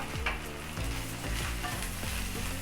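Chopped tomato sautés in a chicken masala gravy, a steady close sizzle and crackle with scraping stir strokes every half second or so, running without pause and no voices.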